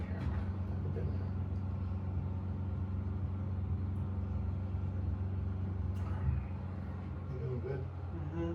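A truck drives in a video game with a continuous low engine rumble and a steady drone. People talk quietly over it.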